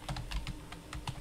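Quick, close taps on a computer keyboard as a title is entered, a short run of light clicks with nothing else heard.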